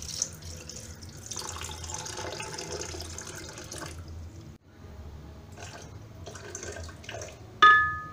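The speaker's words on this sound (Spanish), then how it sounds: "y echamos el agua." Water runs steadily into a container while homemade shampoo is being mixed, a close, continuous trickle that breaks off once midway and ends with a sharp clink of glass.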